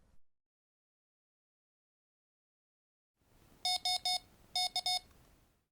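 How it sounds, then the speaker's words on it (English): Several bursts of sharp electronic beeps from a MECHA device after a successful firmware update come in two quick clusters of about three each, loud and close, following a long silence. "At the end of a successful update, you should hear a few beeps"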